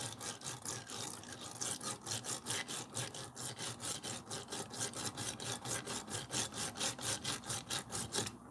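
Nails scrubbed hard during an acetone soak in a nail soak system, a close, quick, rhythmic back-and-forth rasping that repeats steadily throughout, with no speech.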